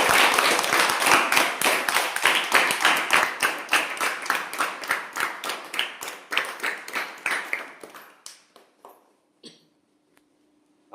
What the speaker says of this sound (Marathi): म्हणून आपण सर्व विद्यार्थ्यांसाठी एकदा टाळ्या देऊया